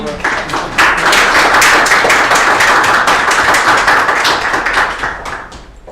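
A seminar audience breaks into steady, dense applause, many hands clapping together close and loud for several seconds, with almost no talking underneath.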